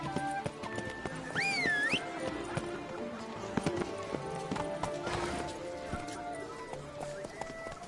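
Roach, the horse in The Witcher 3, gallops with a steady clip-clop of hooves, heard alongside voices and busy in-game ambience, with a brief whinny-like tone near the start.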